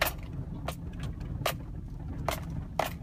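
A car creeping slowly over unpaved ground at a conservation area, a steady low engine rumble with periodic sharp rattling and clunking bumps as it rolls along.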